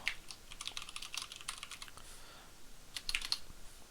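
Quiet, close typing of code on a computer keyboard: bursts of light key clicks in uneven runs, pausing briefly mid-way before another quick flurry of taps.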